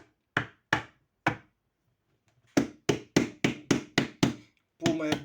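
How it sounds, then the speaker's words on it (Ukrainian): A microphone is tapped with sharp hollow knocks, three spaced taps followed by a quick run of about seven evenly paced thumps and a final louder knock, close and alone. "тепер я по цьому мікрофону можу постукати"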